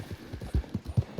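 Hooves of a Silver Bay Kentucky Saddler horse clip-clop in Red Dead Redemption 2, a steady close rhythm of low thudding steps repeating about every quarter second, with no talking over them.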